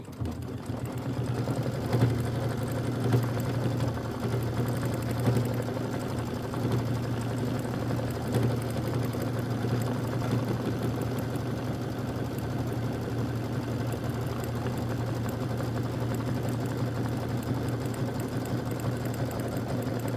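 Embroidery sewing machine stitching the tack-down outline on a decorative snow-themed hot pad, a loud, even mechanical hum with rapid needle rhythm running steadily and alone from start to finish.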